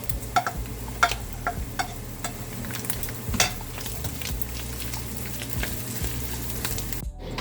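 Onion, green onion and peppers sizzle loudly in a pan with a continuous close hiss, broken by repeated scraping and clinking from stirring utensils.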